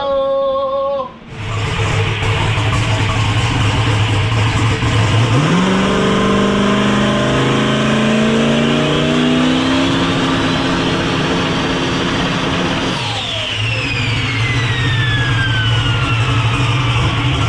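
A turbocharged LS-powered Foxbody no-prep drag car at a race event roars loudly up close, idling then revving hard with rising engine pitch, easing off briefly before climbing again; no talk over it.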